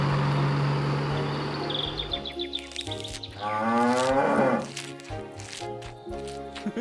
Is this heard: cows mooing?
yes